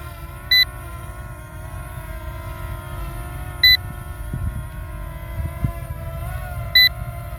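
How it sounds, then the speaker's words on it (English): A RUKO F11 Mini drone sounds its low battery warning as three short, sharp electronic beeps spaced about three seconds apart, heard over a steady faint whir and background hum. "It's still beeping. It's cautioning me to return home."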